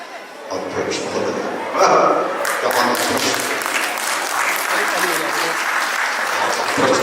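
Audience at a live Hindi mimicry comedy show breaking into loud, sustained applause, with some chuckling mixed in and a voice speaking faintly underneath.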